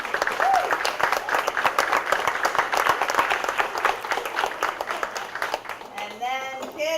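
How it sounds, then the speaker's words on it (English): Parents and guests at a summer program event give the kids a round of applause, sustained crowd clapping with scattered voices mixed in, fading toward the end as a voice speaks. "So if we can give a round of applause to all the kids."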